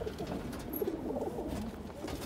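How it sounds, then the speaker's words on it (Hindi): Pigeons coo softly and repeatedly on a rooftop in the lead-up to a pigeon fight, a low steady murmur of calls throughout with no talking. "तो भाई ये है वो कबूतर।"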